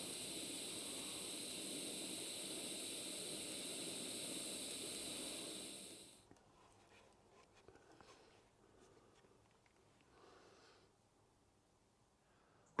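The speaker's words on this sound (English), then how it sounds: "try the high frequency start again" An R-Tech TIG 261 AC/DC TIG welder with an electronic high-frequency arc start gives a steady, fairly quiet hiss for about six seconds, then stops, leaving near silence with faint handling noises.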